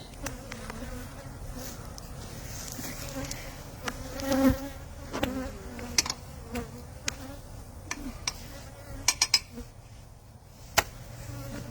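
Honey bees drone steadily around outdoor beehives, a continuous close buzz with occasional louder passes near the listener and faint clinks of handling in between.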